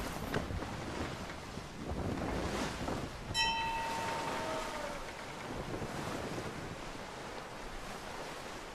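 Atlantic Ocean waves and wind in Assassin's Creed 3 make a steady, fairly loud wash of surf and blustery wind noise, with a brief high tonal chime in the middle.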